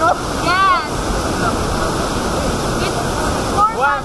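Sanggawan Falls in Mt. Apo Natural Park, a waterfall giving a steady, fairly loud broadband rush of falling water throughout, with people talking faintly nearby.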